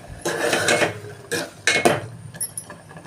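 Dried coconut payasam stirred in a metal pot, with scraping and clinking of the spoon against the pot in uneven bursts, close and fairly loud, with a few sharper taps near the end.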